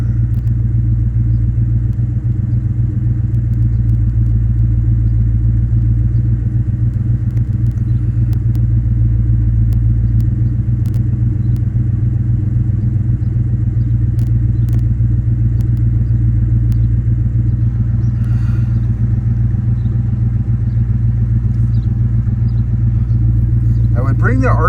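A 2004 Ford Mustang Mach 1 engine idling at operating temperature, a steady, low rumble with a faint clatter, loud and close, with no change in pace throughout.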